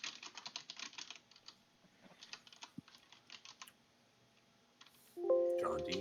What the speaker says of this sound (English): John D is typing.